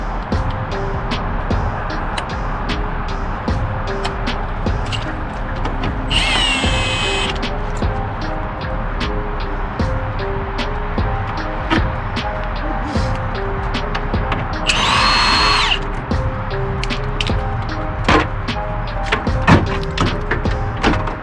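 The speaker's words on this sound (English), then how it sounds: "So we can get our impact in there, get that crankshaft pulley off" An impact wrench works on the crankshaft pulley of a Subaru engine in two loud, rattling bursts of about a second each, with clinks and handling noises in a garage between them.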